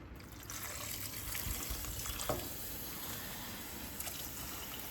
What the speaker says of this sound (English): we're gonna add some warm water.